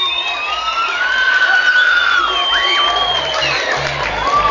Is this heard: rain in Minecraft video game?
no